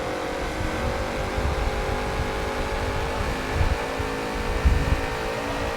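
Race cars accelerating in a NASCAR-style racing video game, with a Porsche and a Bentley in the field, a steady droning engine roar holding throughout with a couple of brief louder surges near the end.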